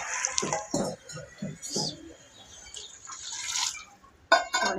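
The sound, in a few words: washing lentils (dal) in water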